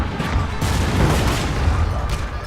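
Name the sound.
artillery fire in Shogun 2 Total War video game battle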